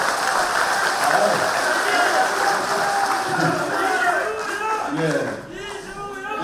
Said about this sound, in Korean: 여전사 박수!